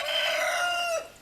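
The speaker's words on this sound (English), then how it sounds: "our rooster is going to talk about crowing" A rooster crows once, close and loud, its long call holding steady before breaking off near the end, with no voices around it.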